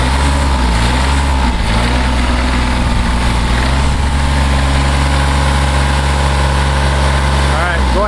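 A Kubota B5100D diesel tractor engine runs loudly up close with a heavy, steady low rumble that lifts slightly in pitch as it is throttled up.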